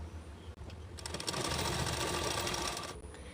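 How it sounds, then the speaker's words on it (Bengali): A sewing machine stitches lining fabric for a lehenga blouse in one continuous, rapid run of needle strokes that carries on at an even pace, alone and fairly close. "এবার আমি সেলাই করতে শুরু করবো"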